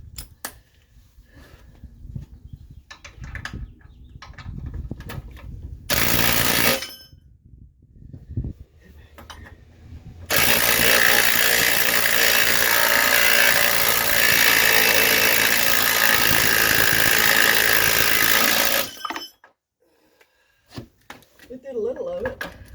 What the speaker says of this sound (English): Let's see if this impact wrench will do the work.